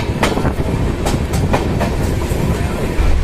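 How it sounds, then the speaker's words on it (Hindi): Avadh Assam Express train running at top speed on the rails near Saharanpur, a loud continuous rumble with rhythmic clickety-clack wheel beats, heard from on board. "तो गाइस ट्रेन अपनी मैक्सिमम पर।"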